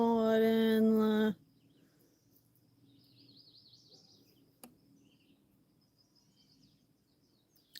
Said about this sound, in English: Oh, yeah, that's a bird.